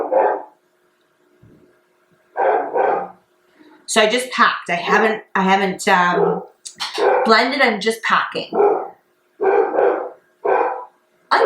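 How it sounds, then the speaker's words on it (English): Dogs, including a big male, bark in short repeated bursts in the background while someone talks over them in a quiet indoor room during a makeup application. "I really apologize if you can hear my dogs barking."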